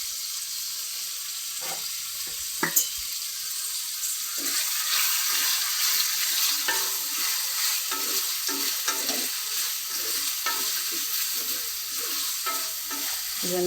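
Onions sauté for a chicken curry, a steady bright sizzle filling the pan with irregular stirring scrapes and clicks of a spoon throughout, close and fairly loud, with no talking.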